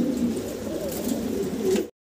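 Fancy pigeons in breeding mode coo softly and repeatedly at close range, a low, continuous murmuring that stops abruptly at the end.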